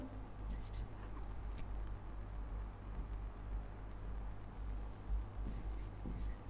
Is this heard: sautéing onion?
no